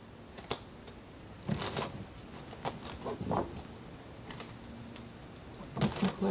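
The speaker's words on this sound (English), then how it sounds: "I'll shuffle one more time." A deck of cards is shuffled in a quiet room, producing a few short, crisp riffling and snapping bursts separated by pauses.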